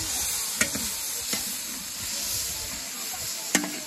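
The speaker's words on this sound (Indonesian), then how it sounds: "Kemudian diaduk" Aceh goat curry with chilies being stirred in a large pan: a steady sizzle and steam hiss throughout, with a few faint scrapes of the spoon against the pan and no talk.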